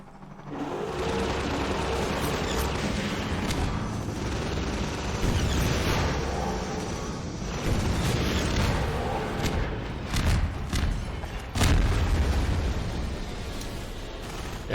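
Rockets fired at a gunship in Half-Life 2 set off a dense, rumbling run of booms and blasts over steady combat noise, with several heavier thuds standing out.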